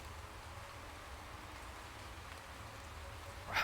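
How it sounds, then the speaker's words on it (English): Steady rain hiss in the Motorsport Manager racing game, a constant broadband wash with a low rumble beneath, swelling louder in the final moment; no voices. "the rain starts to come down, which it is now"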